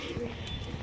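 Homing pigeons coo in low, soft repeated pulses at a backyard loft, with birds being released nearby and faint background bustle throughout.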